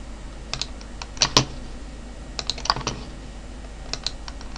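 Computer mouse clicking on a desk, scattered sharp clicks in small bursts and doubles, close and fairly crisp, with no talking.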